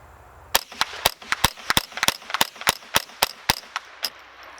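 Ten rapid, sharp cracks from a Savage A22 FVSR semi-automatic .22 rifle with a suppressor-ready barrel, fired in a quick, steady string at close range, each report crisp and distinct.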